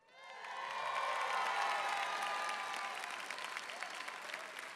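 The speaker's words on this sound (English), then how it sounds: "And the crowd goes wild." An audience claps and cheers after a youth two-step freestyle dance performance, the applause swelling quickly to a full, steady roar of many hands with scattered whoops, then thinning slightly toward the end.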